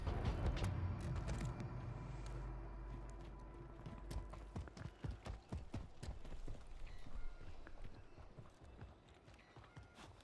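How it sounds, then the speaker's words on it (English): Footsteps from Call of Duty Warzone ranked play come as steady clopping, rhythmic thuds under the game's low ambient rumble. Over about ten seconds they fall into an uneven, hoof-like beat that carries on with no voices. "Oh, I hear footsteps."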